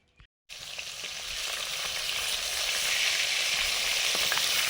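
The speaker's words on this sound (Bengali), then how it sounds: "একদিকে মাছ ভাজা হচ্ছে" Continuous loud sizzling of fish frying in a pan, a steady crackling hiss that swells slightly after a brief quiet start.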